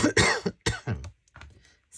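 A person coughs sharply several times in a short burst, close and loud, with brief pauses and a softer throat-clearing sound at the end.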